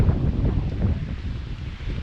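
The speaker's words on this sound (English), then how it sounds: "Yeah, that wind be no joke." Steady wind blows over a kayak out on the water. It makes a constant low, blustery rumble of wind against the microphone with no voices.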